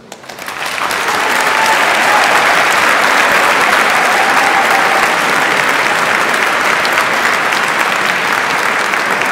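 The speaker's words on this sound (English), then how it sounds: "I'd like to invite our graduates to give a big round of applause." Graduates and guests applauding at a graduation ceremony in Canterbury Cathedral, a dense, loud wash of clapping that swells quickly and holds steady in the reverberant space.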